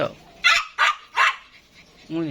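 A few sharp, loud barks from a German Spitz in quick succession close by, followed by a brief voice at the end.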